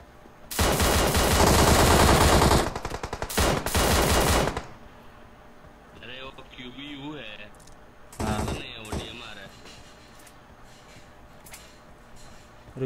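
A loud, sustained burst of automatic gunfire from the mobile battle royale game PUBG Mobile rattles for about four seconds. Quieter gameplay sounds and a few short shots follow, with people talking in between.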